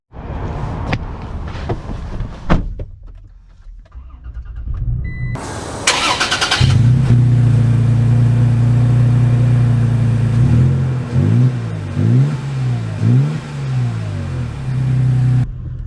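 A 2023 Toyota Tacoma pickup truck pulls away and accelerates, its engine rising to a loud, steady drone heard from inside the cab, with pitch sweeps as it shifts through gears, after a few knocks and a short burst of noise.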